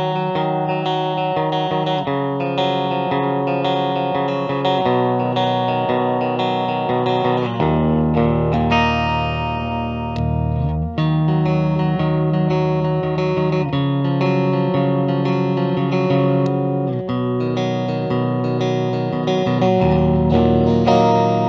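A 2021 Gibson Les Paul Blood Moon in satin black cherry, played as an electric guitar with a split-coil neck pickup, rings out in sustained chords and melodic lines with effects and mild distortion, steady and upfront throughout.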